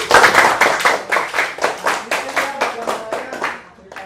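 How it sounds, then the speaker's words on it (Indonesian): Group of people in a classroom or workshop clapping together, a burst of rapid, loud claps that gradually thins and fades out over a few seconds. "Tepuk tangan dulu."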